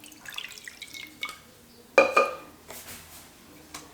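White wine is poured into a marinade for a vegan fish recipe, making a few brief close splashes and drips, with one sharper pour midway, against a quiet kitchen background.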